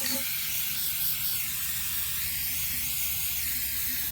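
A can of CRC corrosion inhibitor sprays a steady, loud aerosol hiss, releasing a heavy mist that runs continuously and close for about four seconds.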